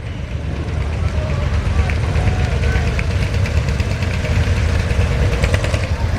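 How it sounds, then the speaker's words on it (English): An old single-cylinder Bulldog N model 40-horsepower tractor runs at a town street parade, its engine a close, rhythmic knocking thump that is steady throughout, with people talking over it. "this is the old Bulldog, an N model single cylinder 40 horsepower group, owned by Jim Ross and driven by George Parr"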